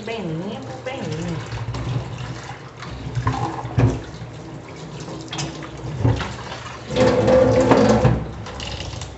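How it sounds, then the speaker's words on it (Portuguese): Warm water is poured over a raw pork rack in a kitchen, heard as close bursts of splashing and running water, the loudest near the end, with someone talking between pours. "Agora eu vou jogar um pouquinho de água morna aí nela"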